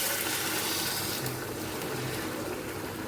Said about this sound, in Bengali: আমি এখন গরম জল দিয়ে দিচ্ছি